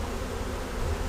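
Honey bees droning thickly around patches of comb during a hive transfer, a close, constant buzz with no voices.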